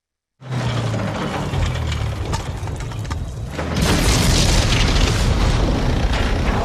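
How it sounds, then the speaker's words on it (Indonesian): A German tank is hit and explodes in a war film: a loud boom starts abruptly, followed by continuous roaring, crackling blast noise that grows harsher and more intense partway through, with no one speaking. "Tiba-tiba ada yang menembak tank itu hingga terbakar"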